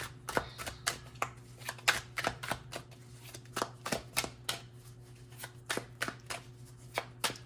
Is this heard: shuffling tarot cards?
yes